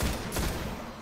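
Rapid bursts of gunfire ring out in the video game Destiny, played on PS4. The shots are loud, dense and close, running continuously for about a second.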